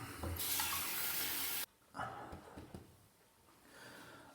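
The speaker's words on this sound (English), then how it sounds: "Let me just drain the sink and I'm gonna rinse and apply the aftershave." A sink is drained and rinsed after a wet shave: a loud burst of running tap water for over a second cuts off abruptly, followed by quieter splashes and knocks nearby.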